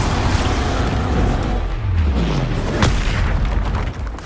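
A spell blast from a wizard duel in Hogwarts Legacy, a loud booming burst with a descending whoosh, followed by a sharp crack partway through, over dense continuous battle noise.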